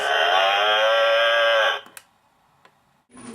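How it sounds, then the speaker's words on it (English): A cow alarm clock gives a loud, sustained electronic moo that lasts well over a second and cuts off abruptly, followed by a few faint clicks and quiet. "Cow alarm clock says..."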